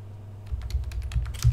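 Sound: typing a command on a computer keyboard

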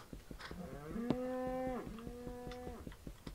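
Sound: cows mooing in Minecraft video game

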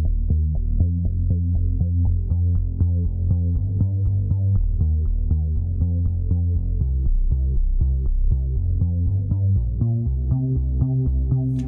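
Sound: Tone2 Electra synthesizer bass patch with filter cutoff changes

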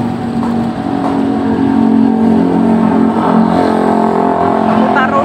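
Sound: fuel-injected motorcycle engine idling, turning the wheel

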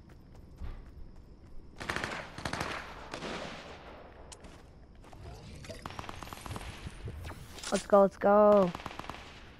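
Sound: shotgun gunfire in the video game Fortnite

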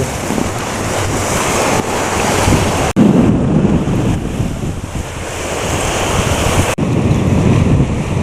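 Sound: sea waves on the shore at Bang Pu

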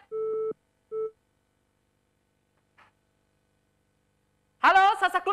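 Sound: busy tone after phone call disconnected

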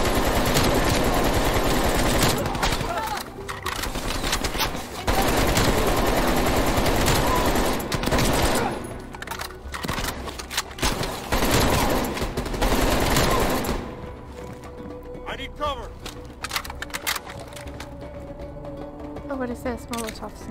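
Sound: gunfire from the video game Call of Duty: Black Ops Cold War

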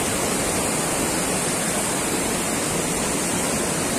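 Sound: Bhatinda waterfall rushing water

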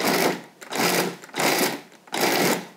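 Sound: pulsing cold shortening and flour mixture for tart crust

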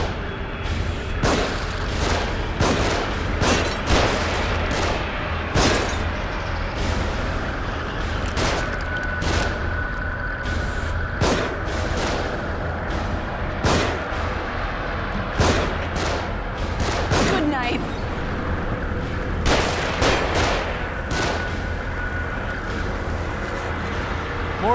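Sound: gunfire from above in the video game The Evil Within

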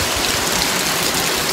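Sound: rain

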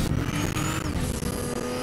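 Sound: car engine driving in a video game

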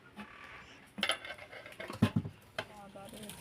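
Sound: putting the lid on the biryani pot

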